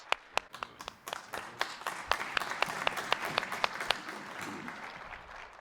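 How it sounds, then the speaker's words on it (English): Scattered applause from an EMS conference audience, with a few distinct close hand claps standing out over a softer, building spread of clapping across the room. "A round of applause for our pioneers in EMS"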